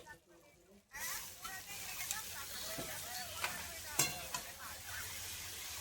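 Banana flower drops into a pan of oil-glossed spiced potatoes, setting off a sudden loud sizzle of frying, followed by continuous crackling and scraping stirring strokes close by.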